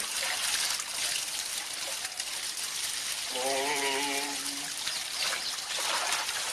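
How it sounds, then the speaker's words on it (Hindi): Water poured over the head during a bath falls in a continuous splashing trickle that runs steadily throughout, with a brief tonal voice-like sound partway through. "वापस अपने सिर पर पानी को डालें"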